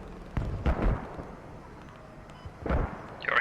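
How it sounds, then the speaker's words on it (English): High-explosive tank rounds in the military game Squad detonate as a couple of muffled booming blasts, one early and one later, moderately loud with no talk. "Your HE just detonates on the outside."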